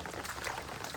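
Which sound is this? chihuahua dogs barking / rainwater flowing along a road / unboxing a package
rainwater flowing along a road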